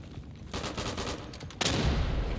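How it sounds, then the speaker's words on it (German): Rapid machine gun bursts in the WW2 shooter Day of Infamy, a dense rattling volley that breaks off briefly, then a heavier, louder burst with a booming low end, no talk. "Seine MG ist doch relativ heftig, ey."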